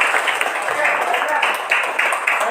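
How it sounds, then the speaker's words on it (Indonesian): Classmates clap their hands together during a floor gymnastics forward roll lesson, a dense, steady patter of many close hand claps lasting a couple of seconds with no pause. "Tepuk tangan."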